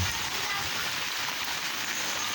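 Heavy rain pours steadily onto a flooded home courtyard and street, a dense, unbroken hiss of falling water spread evenly across the whole stretch with no voices.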